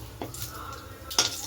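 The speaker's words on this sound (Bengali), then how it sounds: "এই দেখো তেলটা গরম হয়ে গেছে, শুকনো লঙ্কা, তেজপাতা আর জিরে দিলাম" Dried red chillies, bay leaves and cumin seeds hit hot oil, giving a short, close hiss with two sharp crackling spurts and a quieter sizzle between them.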